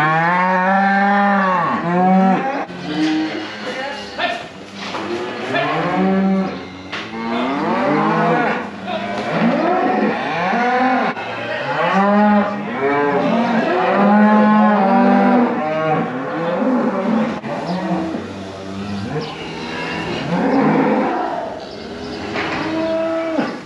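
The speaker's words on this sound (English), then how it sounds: "we eventually got the cows in" Cows and a bull in a shed, mooing loudly and repeatedly in long overlapping bellows and lows of varying pitch, close by and almost continuous with no talk.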